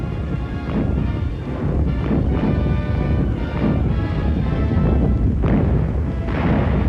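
German V-1 flying bomb explosions over wartime Antwerp: heavy, overlapping blasts and crashing rumble roll on continuously, loud and dense, with several sharper impacts standing out and no voices.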